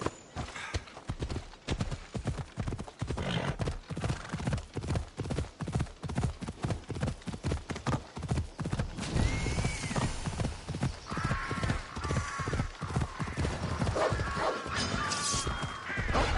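A horse gallops in a PS4 video game, its rapid hoof clip-clops pounding in a steady driving rhythm, with occasional whinnies and crashing hits mixed in and light music over the top.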